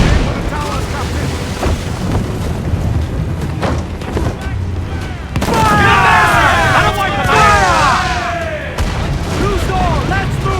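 Ship cannons boom at shore towers in Assassin's Creed IV Black Flag, heavy blasts amid a busy naval battle soundscape with shouted crew orders and voices throughout.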